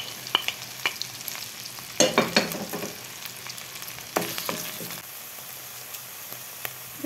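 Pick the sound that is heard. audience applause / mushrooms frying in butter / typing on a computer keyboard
mushrooms frying in butter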